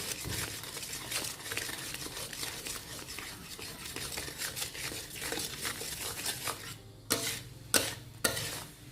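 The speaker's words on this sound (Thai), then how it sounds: "จะคนให้น้ำตาลละลายเลยนะคะ" Sugar-seasoned sauce for Thai shrimp chili paste being stirred in a pan, continuous soft scraping and light sizzle, with a few sharper utensil knocks against the pan near the end; no talk.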